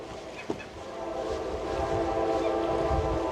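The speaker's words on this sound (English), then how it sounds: "Here comes a train." A heavy train rumbles closer on a railway bridge, its low steady roar building in loudness, with a brief knock near the start and no voices.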